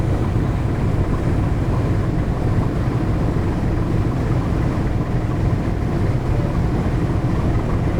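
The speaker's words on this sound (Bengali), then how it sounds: "মুহূর্তে পোস্তকলা ব্রিজ অতিক্রম করে যাচ্ছে ময়ূর দশ লঞ্চ" Passenger launch MV Mayur 10 passing under Postogola bridge on the river at Dhaka, a steady loud low engine drone with broadband rushing noise, unbroken for the whole stretch.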